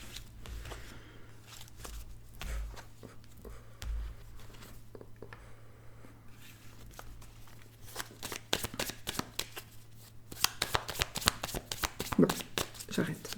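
A deck of tarot cards is shuffled close by, with repeated soft riffles and patters that turn into a rapid, crisp flurry of card snaps near the end, under low background hum.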